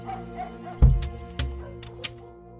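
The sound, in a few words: village dogs howling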